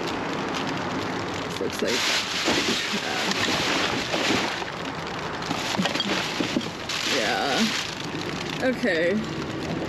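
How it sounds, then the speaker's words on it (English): Hard rain pours down outdoors during a rainy-day dumpster dive, a dense, steady hiss and patter close by, with people talking over it. "we do not normally dive in the rain. But it's like coming down kind of hard"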